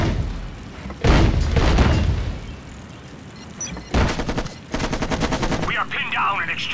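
Act of War: High Treason battle noise: heavy booming explosions and bursts of rapid automatic gunfire come in waves, loud and close, with radio-style voices talking over the combat.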